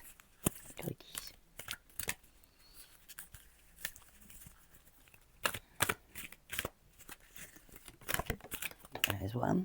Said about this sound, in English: Okay, I'll just shuffle it like this.